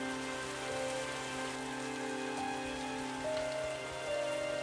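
Steady rain falls on a surface, a constant fine hiss of drops close around, with a few faint tonal sounds drifting in the background.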